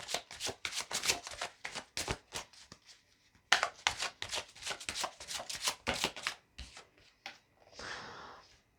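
Tarot cards are shuffled and handled up close, with quick riffling bursts and soft slaps coming in irregular rhythmic runs, then a brief rustle, no talk.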